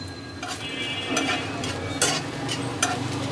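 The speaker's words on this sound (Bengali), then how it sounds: "এই শুকনা মরিচগুলো আমি আগে লাল লাল করে একটু ভেজে নিব।" Dried red chillies fry in hot oil in a pan with a steady close sizzle, broken by a few sharper crackles and stirring scrapes. No voices.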